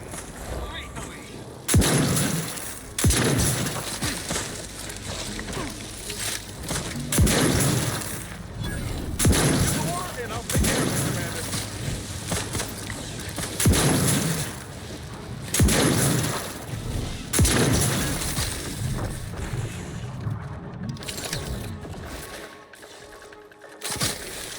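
Shotgun blasts in The Outer Worlds 2 boom repeatedly at irregular intervals, each loud crack decaying into a rumble, over game noise with someone talking between shots.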